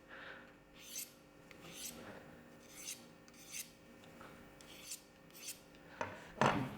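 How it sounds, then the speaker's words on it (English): A single bevel blade is drawn over a sharpening stone to break the burr, giving a series of separate dry, raspy strokes roughly a second apart, close and clear, ending with one heavier scrape. "I'll just do this a few times on that, and then I want to break that burr back."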